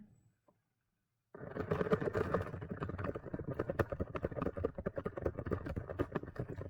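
Keys clatter on a computer keyboard in a quick, uneven run of close clicks after a second of silence, continuing steadily to the end with no voice.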